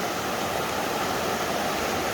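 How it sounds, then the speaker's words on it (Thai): Muddy, swollen water pours strongly over a natural waterfall in rainy season, a dense, steady roar filling the scene close by with no breaks and no voices. "นี่ครับมีพาโอ้โหน้ำไหลแรงอยู่ น้ำสีขุ่นๆช่วงหน้าแล้งน้ำจะใสมาก"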